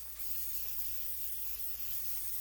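A pump-style kitchen oil spritzer sprays a fine, steady hiss over raw chicken tenders, one continuous soft spray lasting a couple of seconds, close and quiet.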